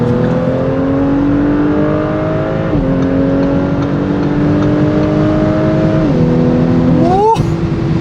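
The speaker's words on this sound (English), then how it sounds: "hopefully the engine sounds come out and everything like that" An Audi S5 Sportback with an 034 Stage 2 tune accelerates hard through several gears, the engine note rising steadily and dropping at each shift, loud and close from inside the car.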